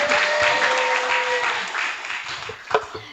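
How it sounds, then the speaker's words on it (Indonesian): Audience applause at an Islamic entrepreneurship workshop fills the room with dense, steady clapping that slowly thins toward the end, with a few sharper claps near the close and no one speaking over it. "Boleh tepuk tangan buat semuanya"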